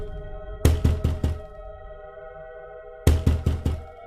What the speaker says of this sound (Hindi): फिर वह उस घर का दरवाजा खटखटाती है।